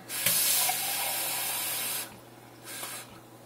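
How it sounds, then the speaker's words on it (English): Tap water runs into an empty soup can in a kitchen, a loud close hissing gush for about two seconds, then a brief pause and a second shorter burst. "And I just usually fill the can of water up to about here."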